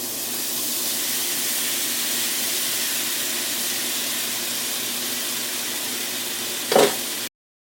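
Shrimp fries in a pan with a loud, steady sizzle and hiss throughout, a brief louder crackle near the end, then sudden silence.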